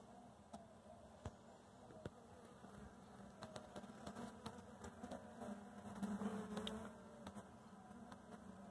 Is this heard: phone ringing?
no